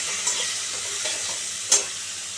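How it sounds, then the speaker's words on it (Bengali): Okra frying with salt in a pan gives off a soft, steady sizzle, with a light clink of stirring near the end. "দিয়ে জিনিসটাকে ভালো করে ভাজব ভালো করে ভাজব"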